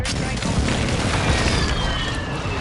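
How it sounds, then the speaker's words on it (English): A mortar strike in a video game lands as a loud, dense rumbling barrage of booms that fills the whole stretch, with speech mixed over the blasts. "Requesting fire mission. Target marked. Solid copy. Mortar strike"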